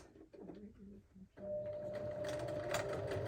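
A home sewing machine running steadily at a 3.0 stitch length, top stitching down a sew-together bag, a close, even whir with a brief start and pause before continuous running.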